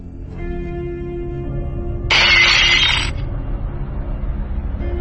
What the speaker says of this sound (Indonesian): Piring di dapur terdengar pecah.